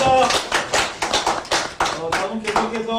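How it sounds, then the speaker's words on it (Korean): Applause at a Korean political campaign event in Seoul's Dongjak district, a crowd clapping continuously and fairly loudly for about three seconds, with a voice over the clapping in the last second. "다시 한번 남편분도 큰 박수 보내주시기 바랍니다."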